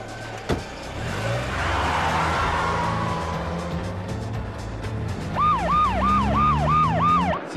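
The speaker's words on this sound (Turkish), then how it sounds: "Siren sesini duydunuz mu? Polisler geliyor," A police siren wails closer over a car's low engine rumble, first a broad rising whoosh, then a clear up-and-down warbling siren cycling rapidly and growing louder near the end.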